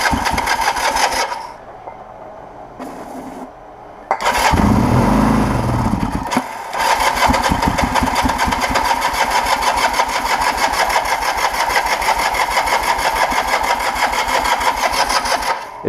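A 1980 Kawasaki KZ LTD440 motorcycle engine catches after a rebuild, running on starting spray with a little choke. It begins with a loud burst, then settles into a steady, close, even idle that holds to the end.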